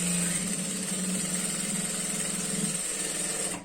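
A sewing machine stitching a girl's skirt runs in one continuous, close, steady mechanical whir with a fast rattling rhythm, stopping abruptly at the very end.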